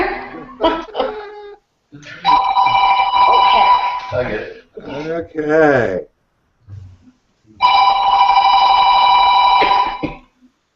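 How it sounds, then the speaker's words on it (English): An office telephone rings in two long, loud electronic bursts separated by a pause, with a person speaking and coughing close by in between. "Phone's ringing."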